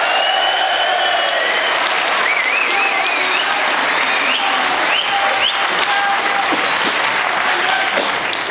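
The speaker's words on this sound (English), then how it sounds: "I want a round of applause" A round of applause for Liverpool boxer Tony Bellew at a pre-fight event for his rematch with David Haye: loud, dense crowd clapping with whistles and cheers, sustained throughout.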